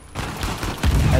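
Dense video game gunfire from Uncharted 4, a rapid fusillade of close, loud shots that swells harder near the end, part of a firefight where enemies are being dropped with headshots.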